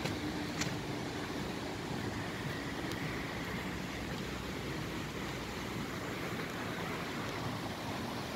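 The swollen Lis river in Leiria rushes past, a dense, steady roar of flowing water, close and continuous with no talk.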